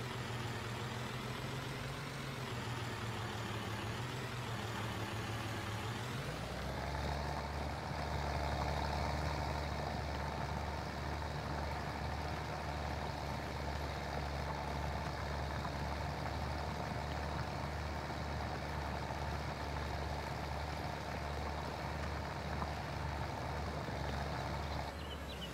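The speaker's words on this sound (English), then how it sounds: "Nice little old school tractor here." A vintage tractor engine in Farming Simulator 22 rumbles low and loud. It catches and rises partway through, then holds a steady, unbroken drone with no talking.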